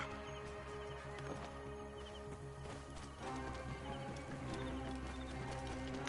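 Camel footsteps in the video game Assassin's Creed Origins, a steady plodding clip-clop of hooves over a continuous game soundscape with music-like tones and no talk.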